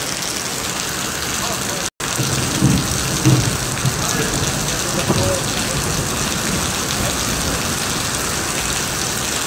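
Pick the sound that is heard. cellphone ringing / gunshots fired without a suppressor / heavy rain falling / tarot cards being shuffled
heavy rain falling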